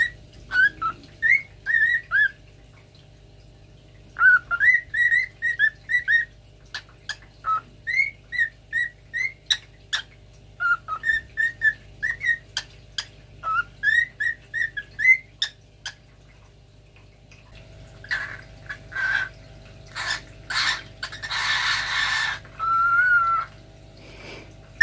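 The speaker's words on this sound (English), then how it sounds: "And he can wolf whistle" A bird whistles repeated rising-and-falling phrases in bursts with short pauses, fairly close, ending in louder squawky calls and chatter.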